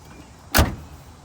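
A 1986 Chevrolet El Camino SS door swings shut once with a single solid, close thump, ringing off briefly into quiet surroundings.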